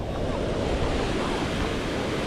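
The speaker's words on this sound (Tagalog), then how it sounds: "Kasi lumalagpas po yung tubig dito." An overflowing river in Pampanga rushing past, a loud, continuous roar of churning water mixed with wind buffeting the microphone, steady and close throughout.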